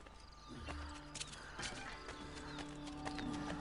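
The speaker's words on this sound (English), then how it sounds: "Escort Katarina on horseback as she flees from the Castel Sant'Angelo." Horse hooves in Assassin's Creed Brotherhood during an escape on horseback from the Castel Sant'Angelo, a steady clip-clop rhythm of galloping under busy game sound effects, with a brief whinny and no speech.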